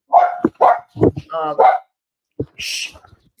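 A dog barks a few times close by, short sharp yelps mixed in with a person talking over and between them.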